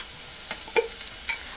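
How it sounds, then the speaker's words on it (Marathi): Onion for an aloo paratha filling softens in hot oil, a faint low sizzle broken by a few quick spatula scrapes and taps, brief and close with no talking. "जरासा तो तेलावर परतून घेते, म्हणजे आपला कांदा थोडा सॉफ्ट होईल।"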